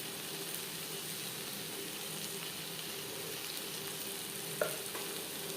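Cabbage curry with ghee, garam masala and slit green chillies being stirred in a pan on a gas flame, giving a steady close sizzle and frying hiss throughout, with one brief scrape of the spoon near the end.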